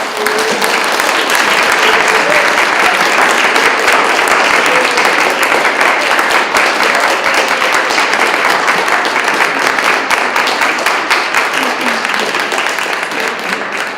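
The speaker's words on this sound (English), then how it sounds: "I want to give them all a round of applause." Loud, sustained applause from an audience honouring the speakers at a Life After High School 2015 event, many hands clapping in a thick, unbroken roar for the full fourteen seconds.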